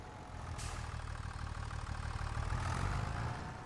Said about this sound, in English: this tractor is pretty loud